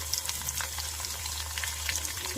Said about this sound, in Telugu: సో పోపు పెట్టుకోవాలంటే ఫస్ట్ అయితే ఎండుమిర్చి, యాజ్ యూజువల్ కొద్దిగా ఆవాలు, జీలకర్ర